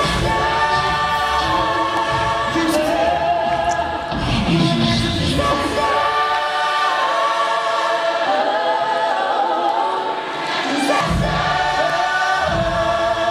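A large crowd sings together loudly in sustained tones, with yells and whoops rising at times, sounding like an audience joining in at a live show.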